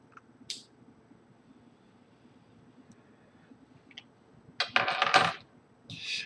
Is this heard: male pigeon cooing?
no